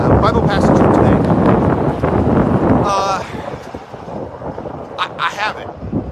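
Strong outdoor wind buffets the microphone with loud, rumbling gusts through the first three seconds, then eases to lighter, intermittent bursts, while a person talks over it.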